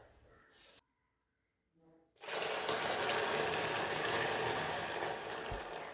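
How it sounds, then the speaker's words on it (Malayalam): Water is poured into hot caramel in a pan with a sudden loud rush and hiss that holds steady and close, after a few quiet moments with faint clinks. "നമുക്കിതിലേക്ക് 1 കപ്പ് അളവിൽ വെള്ളം ഒഴിച്ച് കൊടുക്കാം"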